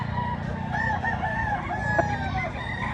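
A rooster crows at an outdoor chicken expo, a long strained call over a thick background of other fowl clucking and crowing, with crowd chatter underneath.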